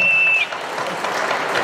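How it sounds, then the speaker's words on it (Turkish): Wedding guests at an Ahiska Turkish celebration applaud the father, a loud, dense wash of clapping that fills the whole short stretch, with a brief high tone fading out at the start. "Hani bir güzel alkış babaya."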